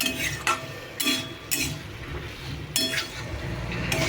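A spoon clinks and scrapes against a pan in a steady rhythm while a curry with prawns and papaya is stirred and sautéed, close up over a low sizzle, with no talking.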